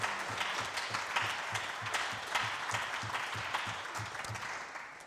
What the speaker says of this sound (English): if we could have a round of applause for all the speakers that spoke in tonight's debate